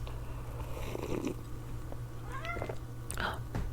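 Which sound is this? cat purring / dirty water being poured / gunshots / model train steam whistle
cat purring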